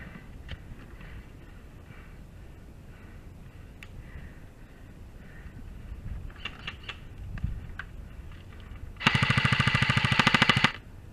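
An airsoft gun rips off a dense, rapid full-auto burst of close, sharp pops lasting nearly two seconds, preceded by scattered faint clicks and distant shots during an outdoor game.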